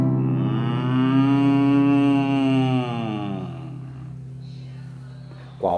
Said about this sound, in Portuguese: Qual o som que faz o boi?